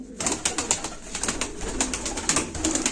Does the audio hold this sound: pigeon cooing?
yes